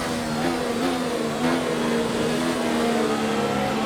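Modern Formula 1 race car engine at the Russian Grand Prix, a continuous high-revving engine whine with slight pitch shifts, steady and loud throughout.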